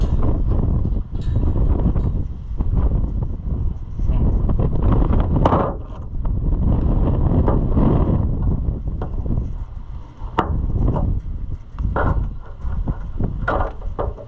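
Steady, heavy wind buffets the microphone throughout, a continuous low roar with gusty surges and no one speaking, outdoors beside an Oliver 525 combine.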